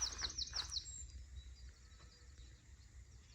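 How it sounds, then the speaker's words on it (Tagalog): Small garden birds chirp in quick bright bursts at the start, then fade to occasional faint tweets over a low steady background hum. "Nakaka-relax pakinggan yung mga huni ng ibon,"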